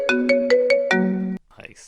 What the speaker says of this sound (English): every time the phone rings in the morning, answer this.